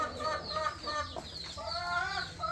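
Backyard hens in a home garden cluck and squawk in a steady overlapping chorus, close and fairly loud, with no talking.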